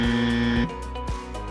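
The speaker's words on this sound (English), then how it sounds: "once again pressing the buzzer first" A quiz show buzzer at a school quiz contest sounds once, a loud steady electronic tone lasting about half a second, followed by softer tonal hum and faint clicks.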